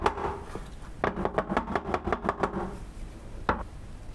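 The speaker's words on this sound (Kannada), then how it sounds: "ಇವಾಗ ಸ್ವಲ್ಪ ಟ್ಯಾಪ್ ಮಾಡ್ಕೊಳ್ಳೋಣ." A cake bowl filled with mango rava batter is tapped on a hard surface: a few early knocks, then a quick even run of about ten sharp taps, and one last knock after a pause.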